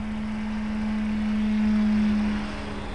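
The small engine of a 72-inch RC Cub model airplane holds a steady buzzing hum at half throttle in flight, swelling briefly in loudness before easing back.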